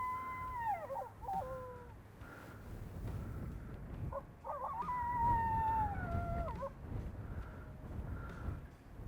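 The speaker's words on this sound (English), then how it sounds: "he lets out some howls and is rolling through a series of different coyote sounds" Coyote howls and yips played outdoors from an electronic predator call during a coyote hunt: two long wavering, falling howl sequences with broken yips, loud and clear over rumbling wind noise.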